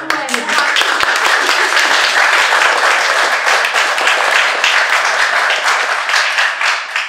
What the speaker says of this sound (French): D'abord, on va applaudir.